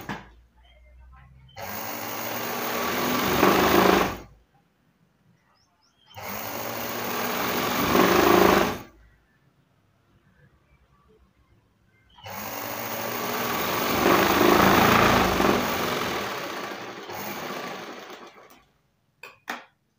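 A sewing machine stitches a folded blouse hem, whirring in three sustained runs separated by near silence, close and steady.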